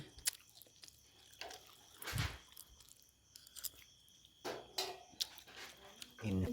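Close chewing and crunchy biting during a late-night meal, irregular moist bites and crunches at low volume, with intermittent people talking nearby.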